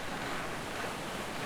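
Simulated ocean waves in the Floating Sandbox ship-sinking game as a ship's stern settles, a steady broadband wash of surf and wind that holds even and fairly loud throughout.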